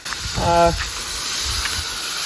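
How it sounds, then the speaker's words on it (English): Hissing of boiling coolant on an old MGB sports car that sat unused for ten years, a steady loud hiss with a brief rising whistle-like tone early on, no talking. "See the boiling."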